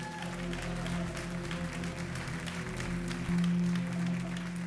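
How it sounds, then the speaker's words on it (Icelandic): Audience applause at a gathering where children are called up front, a steady dense wash of clapping with a low electrical hum beneath, swelling slightly louder near the end. "Við skulum gefa það gott klapp hérna."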